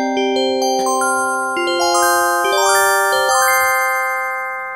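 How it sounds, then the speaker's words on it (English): Layered modular synthesizer bell tones ring out in a rising sequence of overlapping pitches, several voices sustaining together, bright and clear with no talking. "Now we have our bell synthesizer."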